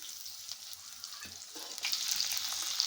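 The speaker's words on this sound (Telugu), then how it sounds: "ఉల్లిపాయలు వేసుకుంటున్నాను." Sliced onions sizzle steadily in hot oil in a pan with a soft, continuous crackle, close and moderately loud, with faint stirring scrapes and no talking.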